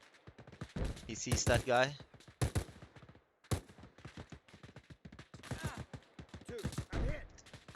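Gunfire from an AI sniper team in the video game Arma Reforger: sharp, close shots heard a few times among clicks and game noise, under someone talking throughout.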